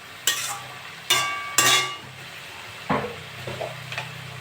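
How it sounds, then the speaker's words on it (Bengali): Kulekhara greens being stirred and fried in a pan, with a few sharp utensil scrapes and clatters standing out over a soft, steady sizzle. "শাকটা নেড়ে চেড়ে ভেজে নিয়েছি"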